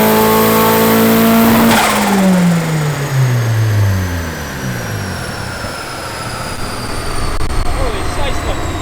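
A turbocharged car engine runs on a dyno at 16 psi of boost, its manifold glowing with extreme back pressure: a loud, steady roar with a falling whine that sweeps down as revs drop, then a rough sustained rumble.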